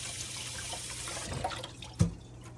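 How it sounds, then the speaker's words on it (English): Water runs from a kitchen tap while hands are rinsed under it, a soft splashing flow with a brief louder splash near the end, heard close by with no talking. "Let me just wash my hands off so I don't dirty up my whole kitchen."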